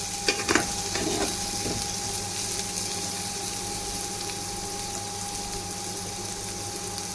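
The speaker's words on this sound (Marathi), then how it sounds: "त्याला पण चांगलं ब्राऊन कलर येईपर्यंत चांगलं तळून घेऊया." Unpeeled, slit garlic cloves fry in oil for a vegetable dish, making a steady, close bubbling sizzle that runs without a break, with a few faint clinks near the start.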